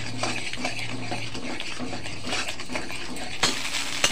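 Beaten egg being stirred with oil in a hot kadai: soft, continuous scraping and clinking of a spoon against the metal pan, quiet and close, with faint sizzling beneath.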